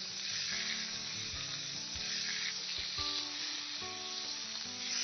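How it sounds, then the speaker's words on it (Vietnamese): Beef sizzling and lightly frying in hot cooking oil in a pan, a steady close crackle with occasional stirring clatters, with no talk over it. "Chiên sơ cho thịt bò săn lại."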